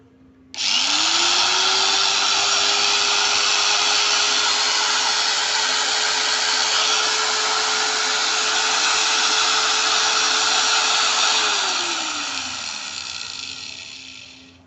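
A new Modern M-2300B angle grinder spins up from silence, holds a steady, loud, high whine for about ten seconds, then winds down smoothly as it is switched off.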